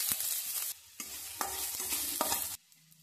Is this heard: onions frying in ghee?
yes